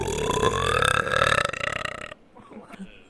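One long, loud, close burp from a person, rumbling and droning for about two seconds before breaking off into quiet.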